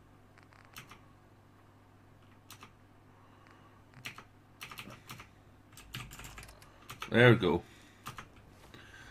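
Bursts of computer keyboard typing sound close and clear during a Fallout 4 play session. Someone speaks briefly among the keystrokes, and louder clattering clicks come near the end.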